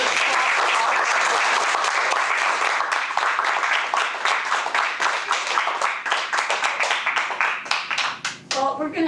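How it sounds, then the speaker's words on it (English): Loud round of applause from a Toastmasters meeting audience, dense continuous clapping that gradually thins into scattered claps near the end, with some voices mixed in. "Let's get a round of applause."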